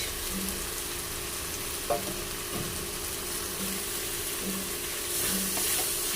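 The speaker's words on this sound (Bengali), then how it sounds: "মশলাটা কষিয়ে নেব" Spices for a mutton curry sauté in a pan, giving an even, moderate frying hiss with a few soft stirring scrapes and light clicks throughout, and no voices.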